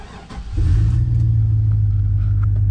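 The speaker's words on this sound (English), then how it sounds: "So now we're going to start the truck." A truck engine cranks briefly and catches, then settles into a steady, loud low idle rumble close by, with no talking.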